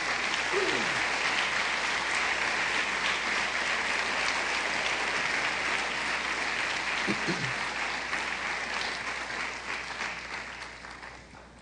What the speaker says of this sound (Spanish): dale usted una ofrenda de palmas a Jesús